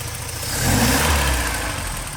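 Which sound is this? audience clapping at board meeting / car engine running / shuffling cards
car engine running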